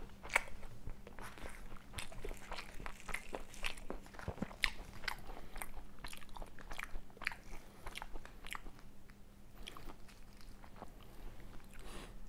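Biting and chewing during a Bengali food mukbang of fish and potato curry, close crunchy bites and moist chewing in an irregular stream, quiet but near and without talk.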